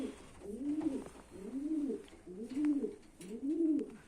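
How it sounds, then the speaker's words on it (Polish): A male homing pigeon gives four low, rolling coos at a steady pace, close and clear, with soft background rustle. "Samczyk sobie tutaj grucha, patrzą się na siebie, poznają się."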